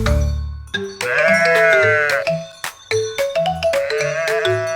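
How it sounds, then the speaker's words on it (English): A sheep bleats loudly over a bouncy musical backing, its wavering cry standing out above the tune. "Ba-ha-ba, the sheep."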